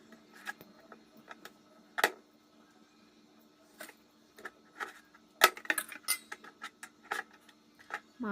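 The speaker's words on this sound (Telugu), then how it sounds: "చిన్న చిన్న ముక్కలు అయితే కట్ చేసుకుంటున్నాను" Knife chopping raw chicken into small pieces on a board, with sharp irregular knocks and taps of varying loudness, some clusters of quick cuts, close by with no talking.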